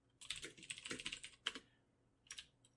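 Typing on a computer keyboard at a desk, a quick close burst of key clicks followed by a couple of isolated keystrokes, crisp against near silence.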